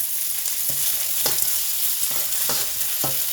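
Egg hits a hot pan of chicken fried rice with a steady close sizzle, broken by several sharp stirring scrapes of a spatula.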